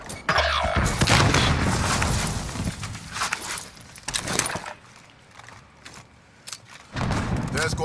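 Frag grenade explosion in Call of Duty, a loud booming blast that rises amid chaotic gunfire and rattling debris, with brief radio-style chatter in the mix.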